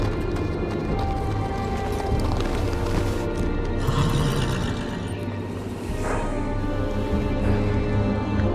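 Horse hooves clip-clop through a dense, noisy scene in the Game of Thrones Telltale video game, with occasional whinnies and no talk.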